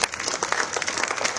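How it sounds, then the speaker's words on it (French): An audience applauds at a presentation of the Guadeloupe cycling tour, a steady wash of clapping from many hands that stays fairly even and moderately loud throughout. "que je vous demande d'applaudir"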